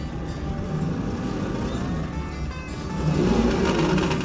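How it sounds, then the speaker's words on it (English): Honda Passport Trailsport on a slip test rig in normal mode, with its engine droning steadily and the right front wheel spinning, the noise swelling louder toward the end. "right front, let's start spinning"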